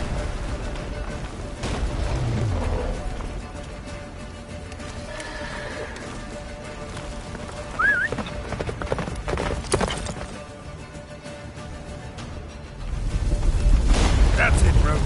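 Roach, Geralt's horse in The Witcher 3, gallops with steady clip-clop hooves under a rumbling game soundscape, swelling louder near the end.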